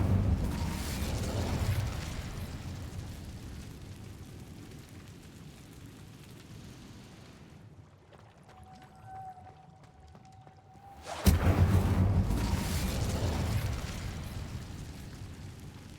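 Incendio fire spell cast in Hogwarts Legacy, a heavy whooshing rumble of flame that fades into a quiet lull, then a second loud burst flares up and slowly dies away.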